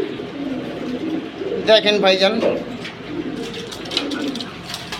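Silver hammer pigeons coo in a short burst of soft throaty calls nearby, while someone talks over a low background.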